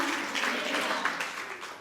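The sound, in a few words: church congregation clapping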